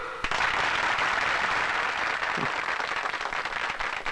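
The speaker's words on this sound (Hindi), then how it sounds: "वाह, तालियां!" Applause in a 1986 Hindi film scene, a steady dense wash of clapping that holds at an even, fairly loud level for about four seconds with no break.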